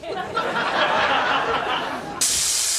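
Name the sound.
performer imitating hissing spray of watering electrical sockets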